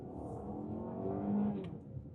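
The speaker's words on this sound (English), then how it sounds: "That sound of a naturally aspirated car." A Mazda CX-8 AWD in sport mode with a naturally aspirated engine revs once, the note swelling and then easing off, heard faintly and alone.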